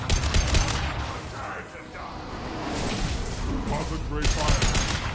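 Rapid gunfire rattles in a Battlestar Galactica video game: dense bursts at the start and again near the end, with a softer stretch between, under voices talking.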